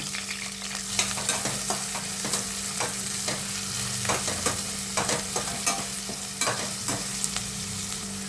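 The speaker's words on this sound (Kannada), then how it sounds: "ಕಟ್ ಮಾಡಿ ಇಟ್ಕೊಂಡಿರೋ ಒಂದು ಆನಿಯನ್ ಹಾಕೊಳ್ಳೋಣ." Onion fries in hot oil with whole spices for a pulao, giving a steady, close sizzle broken by repeated scraping stirs of a spoon in the pan. No voices.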